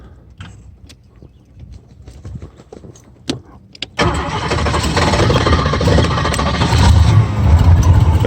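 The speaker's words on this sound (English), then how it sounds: "Start her up now. Give her a couple pumps." A 1978 Cobra jet boat's 350 Ingram engine is cranked with a few clicks and mechanical rattles, then catches at about four seconds and settles into a loud, steady rumbling idle close by.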